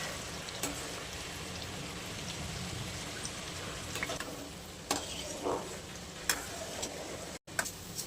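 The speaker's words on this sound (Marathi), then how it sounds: "असं ना असं कडक होईपर्यंत मसूर आपण तळून घेणार आहे" Masoor lentils frying in oil until crisp produce a quiet, continuous crackling sizzle scattered with sharp pops and ticks, heard alone without talk.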